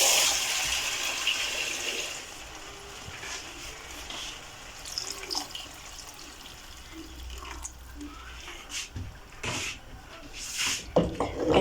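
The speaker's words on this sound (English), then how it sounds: "So I'll add in some water." Water pours and splashes into a pot of minced beef stew, a continuous gushing hiss with uneven bursts and clatters toward the end.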